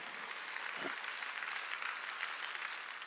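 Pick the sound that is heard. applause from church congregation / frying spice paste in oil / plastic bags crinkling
applause from church congregation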